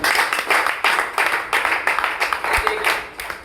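An audience claps together at an event, a dense burst of applause near the microphone that pulses in quick waves for a few seconds.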